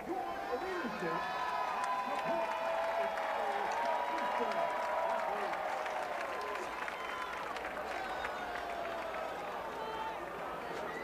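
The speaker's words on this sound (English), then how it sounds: "Crowd is cheering because there was a little mishap with a dog on the field." Crowd at an NCAA college football game between Nicholls and Southeastern Louisiana cheering steadily in a stadium, a broad sustained roar with a commentator speaking over it throughout.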